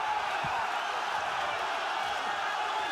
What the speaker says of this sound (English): The crowd trying to urge Tank on.